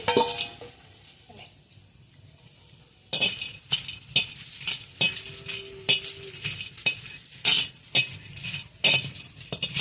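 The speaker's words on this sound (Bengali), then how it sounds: "শুটকিগুলো আমি তেল ছাড়া ভেজে নেব।" Dried fish (shutki) dry-roasts in a pan with no oil: a quiet low sizzle, then repeated scraping and clinking strokes of a spatula stirring against the pan.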